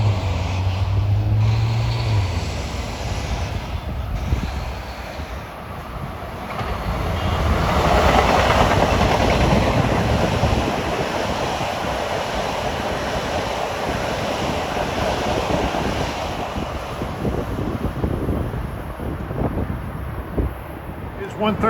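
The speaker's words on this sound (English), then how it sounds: "Comes train 111 from Babylon to New York with M9s at 2:28." LIRR M9 commuter train, number 111 from Babylon to New York, passing through Rosedale station; a loud, sustained roar with rhythmic wheel clatter that swells midway and stays close throughout.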